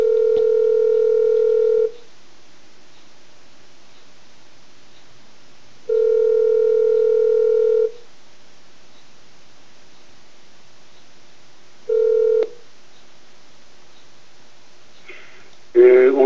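A telephone call dialed live on a Persian-language call-in TV broadcast: three steady ringback tones, the first two about two seconds long and evenly spaced, the third cut short, followed by a brief burst of sound at the end.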